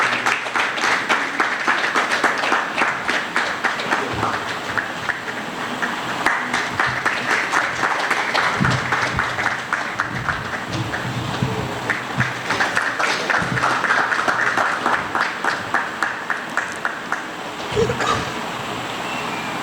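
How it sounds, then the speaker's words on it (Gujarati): An audience at the inaugural session of an arts and culture workshop claps, sustained applause of many hands filling the hall at a steady, lively level for the whole stretch, with no one speaking. "આપણે તાળીઓ પાડતા રહીશું."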